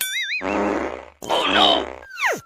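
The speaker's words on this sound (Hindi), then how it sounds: "मैं तो पादूंगा, एक और लो।" A long, buzzy cartoon-style fart rumbles out, surrounded by squeaky comic effects and a falling whistle.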